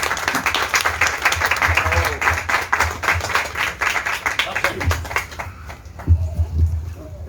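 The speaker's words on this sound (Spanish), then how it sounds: "Un aplauso a mi vecino tertuliano" An audience at a book presentation applauds in a warm burst of clapping that fills most of the seconds before thinning out, with voices heard through and after it.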